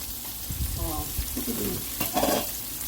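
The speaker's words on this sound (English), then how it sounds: "Just got to finish frying up the chicken." Chicken sizzles and crackles as it fries in a hot pan with soft scraping and stirring, and a voice murmurs briefly in the background.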